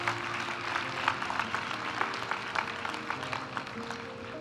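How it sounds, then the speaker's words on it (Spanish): Steady applause from a crowd at a graduation ceremony for Corporate Finance master's program graduates, an even patter of many hands clapping without a break. "Aplaudimos ahora a los graduados de la maestría en Finanzas Corporativas"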